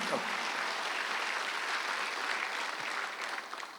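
Applause from a congregation during a Korean Sunday worship service, a broad, even roar of many people clapping that continues steadily for several seconds and thins slightly at the end.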